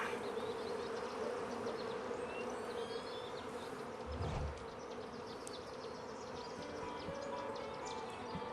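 A dense, continuous buzz of many bees swarming around honeycomb out in the wild, steady and fairly close, with a brief low thump partway through.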